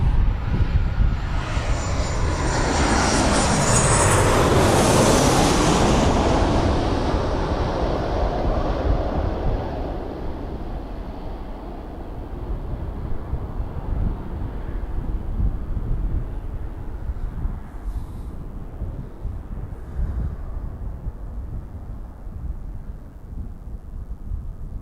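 An EasyJet airliner passes overhead at Birmingham Airport, its engine roar swelling loud and broad, then fading into a long rumbling tail with wind noise on the microphone.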